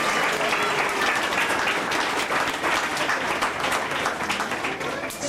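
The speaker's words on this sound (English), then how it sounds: "let's give Jennifer, the trainer, and Fiera a big round of applause" An audience claps for a trainer and Fiera the cat at the Cincinnati Zoo, a dense burst of applause at full volume throughout that thins slightly toward the end, with some voices mixed in.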